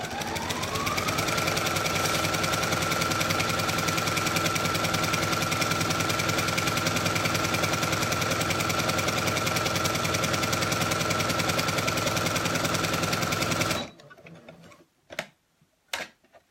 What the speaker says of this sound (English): So my sewing machine is a Brother